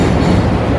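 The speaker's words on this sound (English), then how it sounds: "Train to Midway." A train to Midway in Chicago rumbles loudly and close, a dense continuous roar of rail noise through the whole short stretch.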